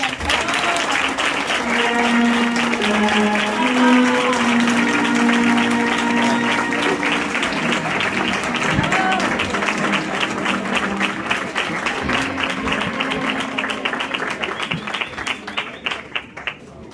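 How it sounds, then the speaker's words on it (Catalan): Sustained applause from an audience fills the hall at a falla sketch presentation, greeting the artist of the children's falla; steady loud clapping runs throughout and slowly thins toward the end. "Donem un fort aplaudiment a nostra artista per a la falla infantil, Míriam García i San Demetrio."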